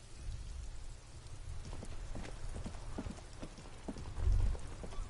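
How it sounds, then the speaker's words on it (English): Steady rain in a video game patters softly, with scattered drops and occasional dull thumps beneath a constant wash of noise. "Droplets of rain fall on the white on blue police livery of the motor carriage"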